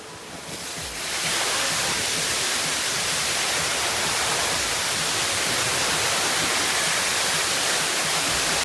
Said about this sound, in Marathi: कचरा धबधब्याच्या ठिकाणी आलेला आहे.